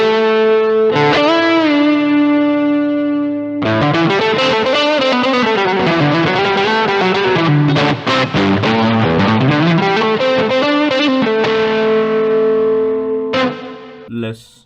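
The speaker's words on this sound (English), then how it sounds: "And now with the blues driver." Electric guitar driven through a Blues Driver overdrive pedal into a Simplifier DLX box, playing a sustained lead line of bends and runs with warm distortion and reverb, loud and close, lasting about fourteen seconds with brief pauses and no talking.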